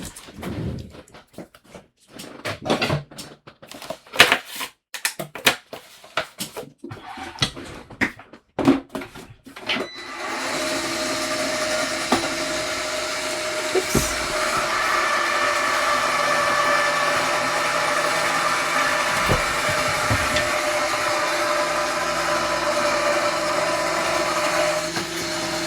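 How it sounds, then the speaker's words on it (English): A die cutting machine runs paper card pieces through a die, a steady close mechanical whir that takes over after several seconds of handling clatter and small taps. "we're going to go ahead and die cut this real quick"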